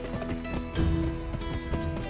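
A horse gallops in the western video game Gun, its quick, rhythmic clip-clop hoofbeats running steadily over layered game music and effects.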